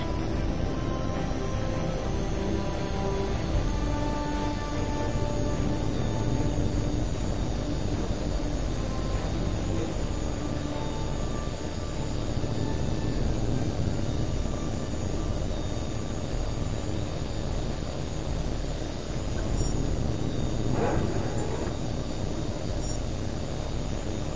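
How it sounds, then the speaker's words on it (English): A fighter jet in Tom Clancy's HAWX 2 powers up for takeoff, a steady loud engine roar with a broad whining hiss that holds constant throughout. "You're clear for takeoff."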